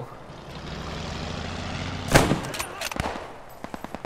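Automatic weapon fire in the World War II game Post Scriptum: after a steady rumble of engine noise, a loud close shot cracks, followed by a string of rapid bursts and separate sharp reports.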